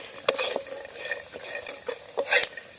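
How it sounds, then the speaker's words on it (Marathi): Onion and peanuts frying in a pan as turmeric powder goes in, with faint sizzling under scraping and stirring and a few sharp clinks of a utensil against the pan. "थोडा वेळ कांदा आणि शेंगदाणे तळून झाल्यानंतर त्यामध्ये आपल्याला हळद पावडर टाकायचे"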